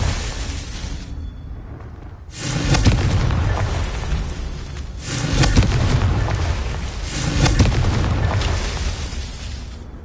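Repeated Confringo blasting-spell explosions in Hogwarts Legacy: a low rumble gives way to three loud booming bursts, each a broad crackling roar lasting a couple of seconds, close and heavy.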